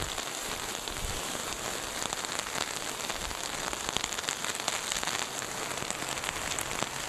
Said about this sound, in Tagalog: Malakas ang ulan, malakas ang hangin.